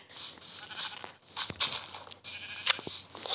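A sheep or goat bleats repeatedly, in three strained, nasal calls separated by short pauses, fairly close and loud with no talk over it.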